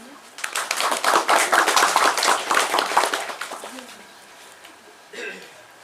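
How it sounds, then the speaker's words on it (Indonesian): An audience at a talk on Kasepuhan Ciptagelar claps to welcome the next speaker, a burst of close, distinct handclaps that swells, fades out after about four seconds, and is followed by a brief voice. "Mungkin bisa tepuk tangannya."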